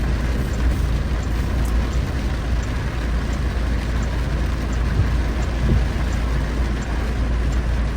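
Heavy rain hisses as a dense, steady wash of noise around a tricycle in Bohol, with a low vehicle rumble underneath and no talking.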